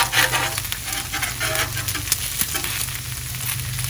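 Bacon fries on an outdoor Blackstone griddle, a loud, dense, continuous close sizzle and crackle with faint scraping of a utensil, and no voices.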